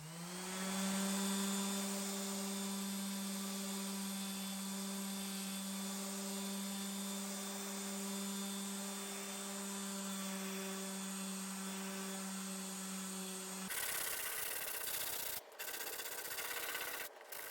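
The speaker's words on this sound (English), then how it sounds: "going to have to take the sander to it again because there's no way the red paint is coming off without it" Power sander grinding steadily against a 1956 Drexel Dateline buffet to strip red paint, a loud continuous whine with a strong hum that runs unbroken, then cuts to rougher, uneven scraping near the end.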